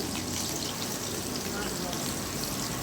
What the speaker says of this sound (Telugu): నూనె వేడెక్కిన తర్వాత ముందు పచ్చిమిరపకాయలు వేసుకుంటున్నానండి. తర్వాత ఉల్లిపాయలు కూడా వేసుకుంటున్నా.